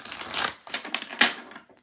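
Tarot cards are shuffled in a quick riffle of papery rustles and snaps lasting under two seconds, close and fairly loud with no talk over it.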